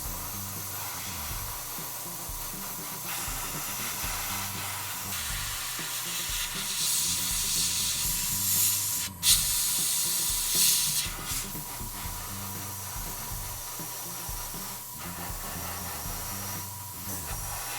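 An airbrush sprays NATO Black XF69 primer onto Gunpla parts for an MG Strike Rouge Gundam, a steady close hiss running throughout with one brief sharper burst midway over a low, choppy rumble.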